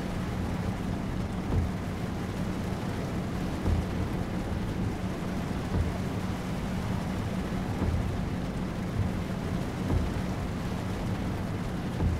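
Steady in-game rain from Euro Truck Simulator 2 hisses continuously, with low rumbles of thunder rolling underneath at an even, moderate level.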